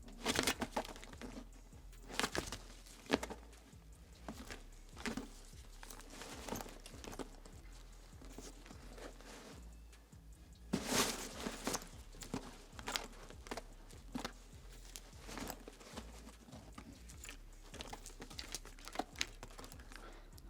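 A foley artist rustles a bag while making walking footsteps in a recording studio. The sound is quiet, with soft repeated crinkles and steps spread evenly through the clip.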